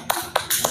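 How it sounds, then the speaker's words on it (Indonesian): Students in a classroom give a short burst of hand claps, three quick separate claps within under a second. "Tepuk tangan untuk semua"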